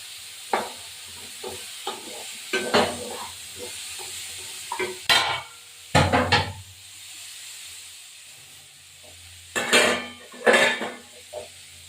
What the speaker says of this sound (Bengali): এবার আমি আলুগুলো দিয়ে দিলাম আলুগুলো দেওয়ার পরে এভাবে একটু ভেজে নিলাম